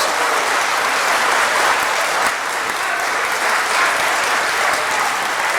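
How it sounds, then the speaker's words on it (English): Steady, dense applause from a large crowd at a city council meeting, loud and sustained throughout without a break. "Give him a round of applause."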